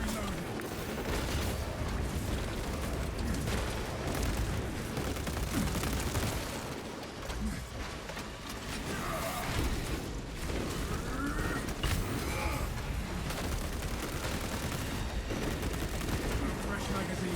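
A bulk carbine in a shooter video game fires dense, nearly continuous bursts of gunfire that stay loud throughout with a brief dip partway through, a faint voice buried under the barrage.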